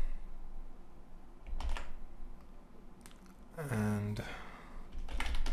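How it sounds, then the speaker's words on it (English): Typing on a computer keyboard while entering HTML text in Dreamweaver: short, close bursts of keystrokes, partly under a man's speech. "I type in some text here"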